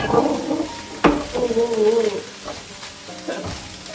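Vegetables stir-fried in a pan for a home-cooked pre-dawn meal sizzle loudly, with a sharp clank of the utensil against the pan and bursts of stirring, heard up close.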